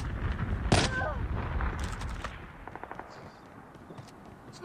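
Sniper rifle fire in the mobile shooter Call of Duty Mobile, a sharp loud shot near the start followed by fainter scattered gunfire and clicks in the game mix.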